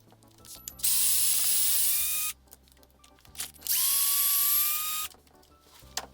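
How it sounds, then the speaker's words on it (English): Cordless screw gun driving screws slowly into plastic rear differential housing parts of a Kraton XL RC car, giving two separate whirring bursts, each over a second long, close and loud, with quiet handling noise between them and no talking. "nice and slow with the screw gun. You don't want to melt the plastic."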